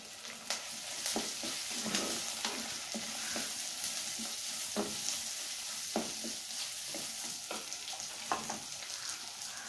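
Onion fries in a clay pot with curry leaves over a village stove, a steady sizzle broken by repeated scraping knocks of a spoon stirring through it, close and continuous with no talk.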